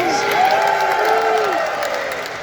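Fans at the TrotCon 2024 convention in Dayton, Ohio burst into loud cheering and applause, a dense wash of clapping and whoops that holds steady before easing off slightly near the end.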